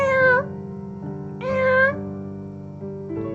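A small cat tangled in an old, grubby handbag in an alleyway meows two clear, drawn-out times, followed by a fainter third cry, over a low steady tonal backdrop.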